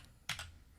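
A quick burst of computer keyboard typing, two or three soft close key clicks in rapid succession against a quiet background.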